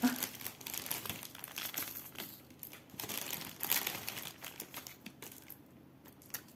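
Plastic packaging of a cross-stitch kit crinkles and rustles close up as it is opened on a table, an uneven run of crackling bursts with short pauses between them.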